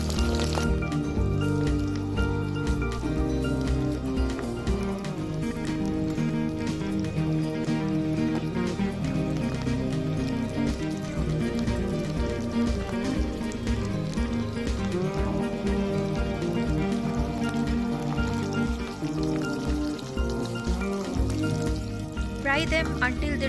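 Baby potatoes for Kashmiri dum aloo fry in hot oil with a continuous crackling, rain-like sizzle that runs steadily throughout, close by and partly under background music.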